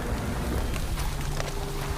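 Steady, dense rain falls in a forest, a constant hiss that fills the whole stretch without a break, with people walking through it under thick plastic sheets.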